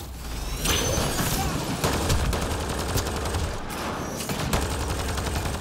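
Cryo rounds fired in the sci-fi shooter video game Mass Effect Andromeda, heard as loud, rapid gunfire bursts in several volleys with heavy impacts over a steady combat din.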